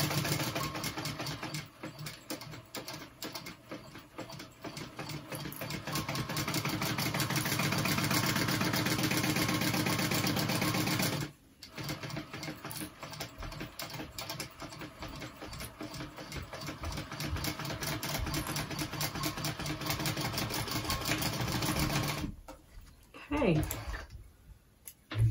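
A sewing machine runs in long steady bursts while stitching a backpack seam, a rapid mechanical whir that pauses briefly midway and stops near the end, with someone talking over it.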